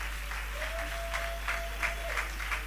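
A church congregation claps together in a steady rhythm of bursts as they praise the Lord, with a thin sustained tone sounding briefly in the middle of the applause.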